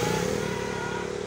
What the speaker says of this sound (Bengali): প্রচুর ব্যস্ত সড়ক, দেখতে পাচ্ছেন হাইওয়ে রাস্তা